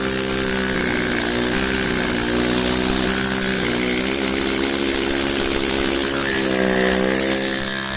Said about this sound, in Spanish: Vamos a continuar un poco con el martillo neumático para que veáis la diferencia.